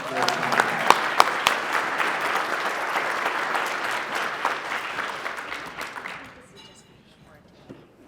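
Steady applause from an awards ceremony audience at a regional police honors event, a continuous crowd clapping that fades out over the final seconds.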